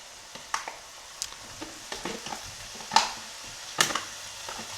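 Bacon lardons go into a pan with softened onions for tartiflette, a faint frying hiss broken by scattered sharp clicks and scrapes, close by, with two louder knocks, no talking.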